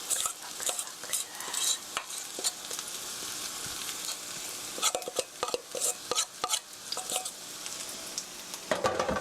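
Green onion pancake batter is spread and scraped with a spoon across a hot frying pan, giving soft sizzling and frying under repeated light scrapes and taps of utensil on pan, close and fairly quiet.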